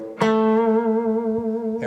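An electric guitar played through a distortion pedal, with the Metal Zone, SD-1 and DS-1 as the pedals being compared, strikes one loud sustained chord that rings steadily for nearly two seconds before a fresh pick attack near the end.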